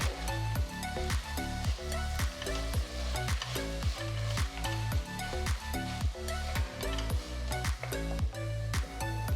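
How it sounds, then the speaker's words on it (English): Chopped tomatoes hit a hot pan with ginger garlic paste, sizzling steadily at close range with a pulsing, rhythmic texture throughout. "Next, add 4 medium-sized tomatoes that have been chopped."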